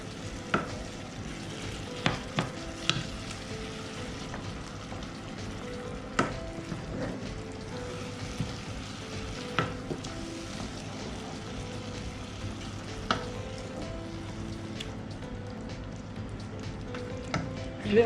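Stuffed courgettes with minced meat filling simmer gently in a pan, a soft steady bubbling hiss broken by occasional sharp clicks and taps of a utensil against the pan, fairly quiet throughout.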